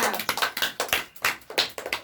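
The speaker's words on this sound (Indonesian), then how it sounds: "Tepuk tangan untuk Nita" A small group of pupils clapping for a classmate during a primary-school science lesson on the water cycle, with loose, uneven claps close by and no talking.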